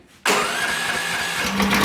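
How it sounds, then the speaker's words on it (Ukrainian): A Weima walk-behind tractor engine bursts into a loud, steady hissing run after a brief quiet moment, staying close and constant throughout. "Лише прибрали заслоночку, шипоче двигун, тому що вейма."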